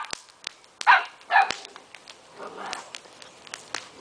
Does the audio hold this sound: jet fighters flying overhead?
no